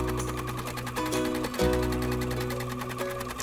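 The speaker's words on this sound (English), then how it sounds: "Stitch color 2 to tack down the dress fabric to the stabilizer" An embroidery machine running a tack-down stitch through dress fabric onto stabilizer, a steady fast mechanical chatter of needle strokes with a humming motor, close and continuous.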